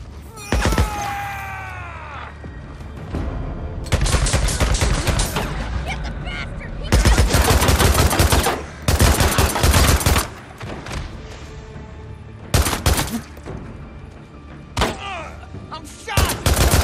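Bursts of gunfire from the video game Days Gone: loud volleys and single shots come in several clusters with brief gaps, mixed with thuds and game noise, while a voice speaks briefly in between.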